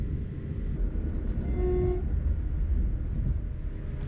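Mariazellerbahn narrow-gauge train climbing the line in Austria, a steady low rumble of the carriage with a brief faint tone midway and a sharp knock at the end.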